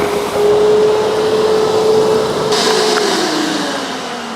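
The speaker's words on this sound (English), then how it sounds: "there is no doubt that this is a serious vacuum cleaner. There's loads of suction power there." A 3000W wet and dry vacuum cleaner runs loud and close with a steady whooshing roar, its pitch sagging slightly before the intake sound changes abruptly near the end.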